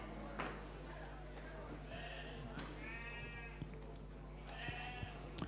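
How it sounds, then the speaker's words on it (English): Sheep bleat in a holding pen at the All-Ireland Shearing Championship, several short calls rising over a steady hum and background chatter, with occasional knocks and clatter nearby. "So I believe the sheep are in the pen"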